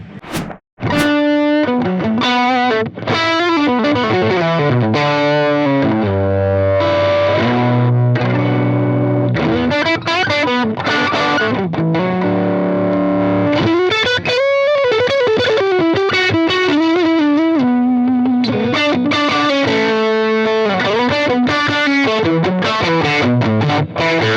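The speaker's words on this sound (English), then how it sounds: "It is a distortion pedal" Electric guitar through a JHS Paul Gilbert PG-14 FET distortion pedal, loud and saturated, with sustained chords and fast melodic runs played continuously with no talking.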